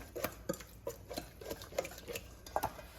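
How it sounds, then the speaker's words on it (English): Whisk beating ingredients together in a bowl after a large spoonful of mustard goes in, giving a run of quick, rhythmic scraping taps against the bowl, close and fairly quiet, with no talking. "we've got our whisk, and we're just going to mix that together"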